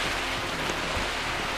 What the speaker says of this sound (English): those are humongous snowballs